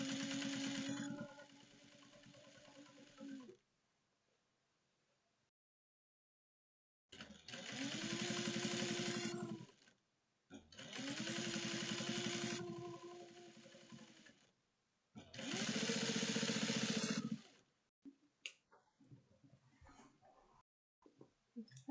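Sewing machine running in three sustained bursts of steady motor whir while top stitching one-eighth of an inch above a seam on a bucket drawstring bag, with quiet pauses and light handling noises between runs.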